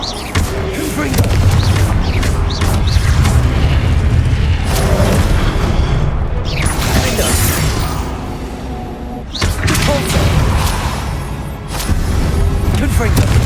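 Confringo blasting spells explode in Hogwarts Legacy, sending repeated loud booming blasts through a dense, roaring battle soundscape, with voices shouting amid the din.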